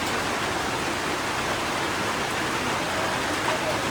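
Dense, even hiss of steady rain falling in a village, continuous and fairly loud throughout, with no clear voices.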